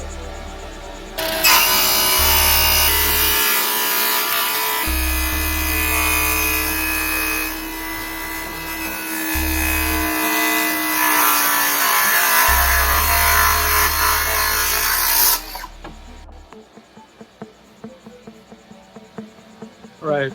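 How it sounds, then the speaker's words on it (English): A radial saw whines loudly through wood in a long continuous cut, then stops, leaving insects chirping in the background. "I'm gonna start sawing"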